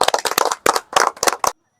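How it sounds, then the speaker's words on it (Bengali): A group claps in a short, dense burst at a prize competition in Bangladesh, the applause loud and close before stopping abruptly after about a second and a half. "হাততালি হয়ে যাক।"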